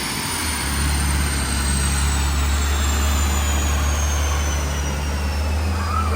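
A BMW G82 M4 tuned to over 700 horsepower roars at sustained high load on a dyno, a loud, steady engine drone with a slowly shifting pitch throughout.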